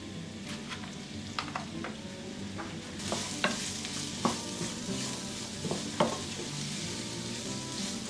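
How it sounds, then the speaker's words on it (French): Onions sautéing in a pan, a continuous sizzle with irregular scrapes and clicks of a utensil stirring, growing busier and brighter partway through, close and without voices. "Et je vais faire revenir les oignons."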